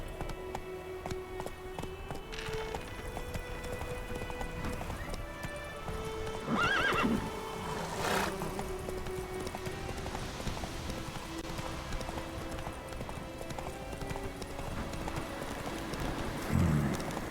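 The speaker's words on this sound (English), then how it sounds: "Run, Roach." Hooves of a horse named Roach clip-clop steadily at a gallop in The Witcher 3: Wild Hunt, a continuous rhythmic drumming under game music, with brief neighs and whinnies breaking through partway.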